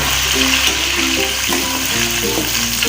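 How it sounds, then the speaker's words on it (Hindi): Onions and tomatoes sizzling steadily in oil while being fried for mutton nihari, a continuous close hiss with faint stirring clinks throughout. "अभी प्याजों और टमाटर को अच्छी तरह जो है हम भून लेंगे।"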